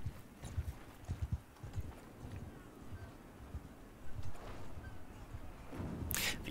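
Hooves clip-clop steadily as a horse is ridden in the video game Mount & Blade 2 Bannerlord, a soft rhythmic trot over faint ambient background noise.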